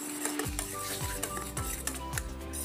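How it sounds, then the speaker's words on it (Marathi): Gram flour gets stirred into buttermilk for Maharashtrian dahi kadhi. A utensil scrapes around a bowl in close, rhythmic strokes, about four distinct sweeps in quick succession, with no talking. "हे बेसन पीठ ताकात व्यवस्थित असं मिक्स करून घ्यायचं आहे"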